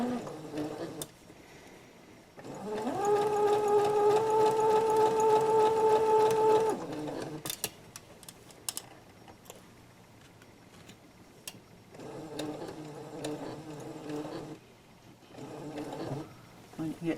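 A sewing machine runs a steady stitching burst while sewing the nose flaps of a fabric face mask with a scant seam allowance, followed by shorter runs, with a voice talking in between.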